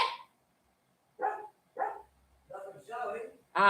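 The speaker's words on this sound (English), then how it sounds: "I don't know what Sam is barking about." A dog on a farm in the Philippines gives several short barks and yips in separate bursts, fairly close, with quiet gaps between them.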